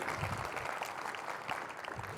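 An audience applauds at a keynote talk, a steady, faint patter of clapping from a room of listeners that holds evenly throughout.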